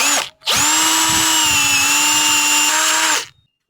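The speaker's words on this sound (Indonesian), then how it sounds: "Untuk papan speakernya ini kita beri lubang dengan ukuran 1 inci. Di sini saya menggunakan step drill." A power drill with a step bit whines loudly and steadily for about three seconds while boring a 1-inch hole through a speaker board, starting after a brief blip and stopping abruptly.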